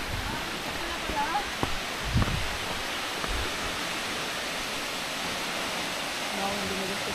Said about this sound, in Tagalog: Yan, may falls doon.